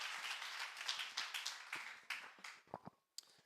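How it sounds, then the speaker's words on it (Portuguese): A church congregation at a worship service applauds together, dense overlapping clapping that thins out into a few scattered claps and stops. "Vamos aplaudir o nome de Jesus."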